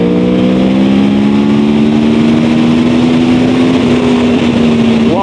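A 2013 Yamaha R1 litre-class sport motorcycle engine revs hard under throttle, a loud, close, continuous high-pitched wail whose pitch climbs steadily over several seconds, with strong wind buffeting behind it and no voices.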